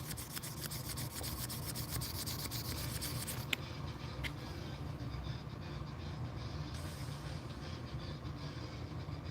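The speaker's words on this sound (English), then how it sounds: "It's wet sandpaper, so you got to keep it wet." Continuous gritty rubbing of wet sandpaper across a metal key at a workbench, a dense steady rasp with a couple of sharp clicks, the texture softening slightly partway through.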